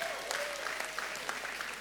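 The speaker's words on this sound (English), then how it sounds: "Please, a round of applause." Comedy-show audience clapping in a short, dense burst of applause that holds steady and moderately loud throughout, with a faint tone running under it.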